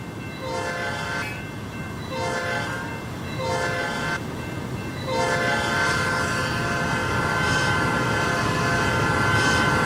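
A Tri-Rail train in the RO-Scale Sandbox game sounds its horn in long sustained blasts, first in a few separated pulses and then held steadily over a rumbling rail background.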